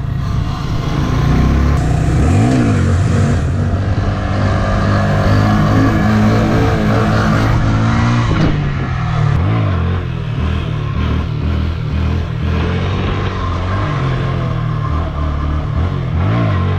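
A Honda Grom motorcycle engine revs hard during wheelie stunts, a loud, close, sustained buzzing roar that rises and falls with throttle changes and engine braking.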